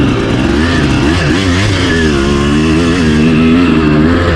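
A dirt motorcycle fitted with a 12-tooth front sprocket rides a singletrack trail, its engine droning loud and close with rising and falling revs throughout.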